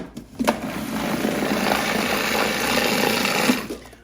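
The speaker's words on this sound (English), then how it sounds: "Now we're gonna turn this back on, puree this until this is nicely incorporated." A food processor runs steadily, pureeing pumpkin cheesecake filling with nutmeg added: a continuous motor whir that starts at about half a second and stops near three and a half seconds, fairly loud, with no talking.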